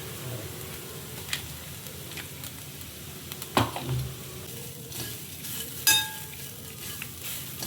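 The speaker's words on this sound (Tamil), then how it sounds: "இப்போ வந்து இஞ்சியை போட்டு வதக்கிக்கிறோம்" Ginger and coconut sautéing in a pan, a steady soft sizzle with occasional stirring scrapes and a couple of brief clinks.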